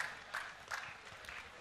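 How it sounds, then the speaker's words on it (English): An audience applauds a third-place Scrabble prize winner at the closing ceremony of an annual accountants' conference, a soft, steady patter of many hands clapping throughout. "Please a round of applause for her"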